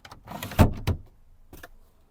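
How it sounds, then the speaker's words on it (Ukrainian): Electric vent window on a used Volkswagen Caddy 1.6 MPI whirs briefly, ending in two firm thumps as the glass moves and seats, followed by a quieter second motor pass; no talking. "Форточка працює."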